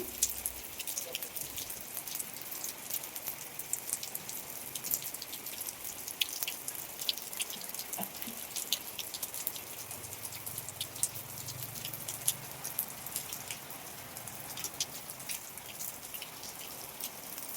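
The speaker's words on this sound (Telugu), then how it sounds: "ఈసారి మాత్రము వాన బాగా పడింది" Steady rain falls throughout, a dense continuous patter of drops on surfaces with occasional louder individual drips, even in level and with no voices.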